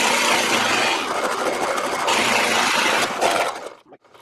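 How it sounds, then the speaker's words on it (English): A drill with a Forstner bit bores into wood with a loud, rasping grind that runs steadily, briefly eases, then resumes before cutting off near the end. "I'm using what they call a Forstner bit."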